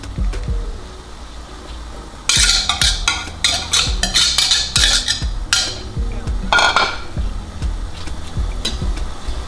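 Vegetables being stirred into a seasoned egg and cheese mixture in a bowl, giving a burst of rapid scraping and clinking strokes that rises sharply partway through and continues in an irregular rhythm against a low background hum.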